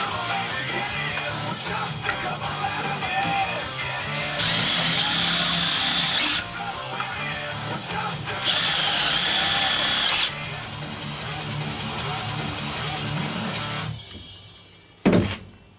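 A power drill drills and countersinks holes in a workpiece held in a 5 inch Doyle vise, with two sustained loud whining runs between lower workshop noise and a sharp thunk at the end; close, no talking.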